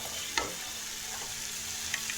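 Fried potatoes for pea ghugni hiss steadily in a pan as a spatula stirs them, with a couple of brief scraping knocks against the pan.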